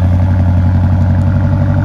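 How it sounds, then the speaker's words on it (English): A 2017 BMW X5 M Sport's 525-horsepower engine exhaust burbles loudly up close, a deep, steady idle rumble with no voices. "The exhaust is absolutely ridiculous."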